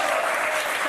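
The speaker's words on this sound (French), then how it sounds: "On vous applaudit très fort." A brief burst of dense studio audience applause on the TV game show Motus, loud and close, filling the whole moment.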